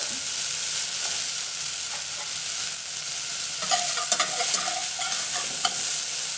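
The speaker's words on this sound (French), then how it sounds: "Donc on va déglacer le tout au porto." Shallots in a hot pan deglazed with port wine, a steady loud sizzle throughout with scraping stirs and small pops toward the end, close up with no talk.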